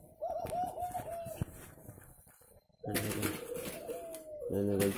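A young spotted dove, its neck not yet showing spots, coos at close range at dawn, with soft repeated calls and a few faint chirps around it.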